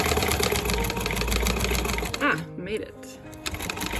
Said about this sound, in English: we just sewed the band to the main pillow using 1/2 inch seam allowance